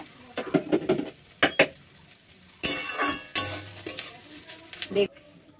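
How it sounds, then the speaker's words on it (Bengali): Neem leaves being dry-roasted in an empty wok, with scattered clinks and scrapes of a spatula against the metal coming in short bursts, fairly close and moderately loud, with a soft faint sizzle between strokes. "শুকনো খোলাতেই নিম পাতাটা ভাজছি।"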